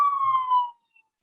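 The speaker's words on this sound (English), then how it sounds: "There are a lot of sirens." A police siren in New York wails briefly in the distance outside, one falling tone that fades out after less than a second.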